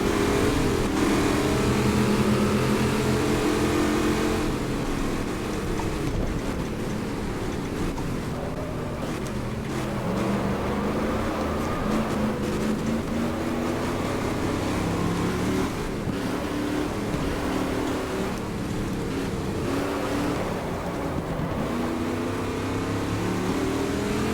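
A racing car engine in the GT Legends video game drones loudly and steadily throughout, its pitch rising and falling with throttle and gear changes, alone with no voices.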